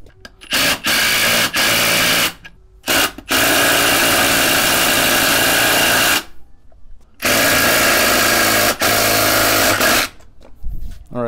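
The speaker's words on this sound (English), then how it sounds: "Thread in the lug nut and just zap it in with an impact." An impact wrench drives a lug nut to press a wheel stud out of a hub or spacer, giving loud, sustained rattling bursts of several seconds each with short pauses between.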